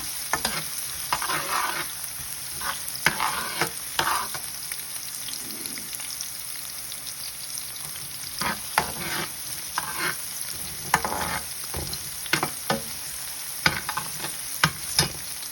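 Crushed chili and garlic fry in a pan with a steady bright sizzle, punctuated by repeated scraping stirs of a spatula, close and fairly loud, with no voices over it.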